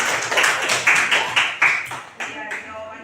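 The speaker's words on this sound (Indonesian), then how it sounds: "kita kasih aplaus" A classroom audience gives a short round of applause after a group presentation, with the claps swelling and fading in uneven waves alongside voices.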